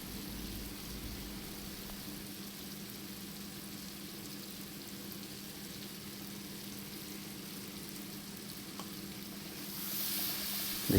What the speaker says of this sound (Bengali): এবার আমি ধনে গুঁড়ো আর জিরে গুঁড়ো দিয়ে দেবো। দিয়ে একটু কষে নেবো।